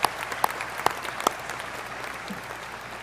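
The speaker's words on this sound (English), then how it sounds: "give them a well-deserved round of applause" An audience at a graduate commencement breaks into steady applause, with a dense wash of clapping and a few louder nearby claps standing out during the first second.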